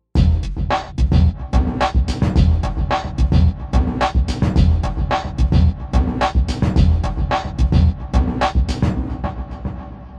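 A pounding, deep bass beat with punchy low kicks and crisp percussion hits in a fast, steady groove, loud and up front.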